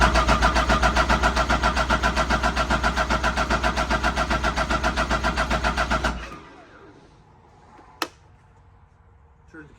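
A 2015 Arctic Cat ZR7000 SnoPro snowmobile engine cranks on a cold start, with loud, rapid rhythmic pulsing for about six seconds. It then cuts out to near quiet, broken by one sharp click.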